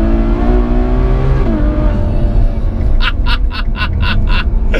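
A Ferrari GTC4 Lusso V12 engine drones steadily and loudly on tight, twisty driving roads, then near the end a series of sharp, rhythmic bursts, likely rapid gearshift pops or crackles, cuts in over the engine.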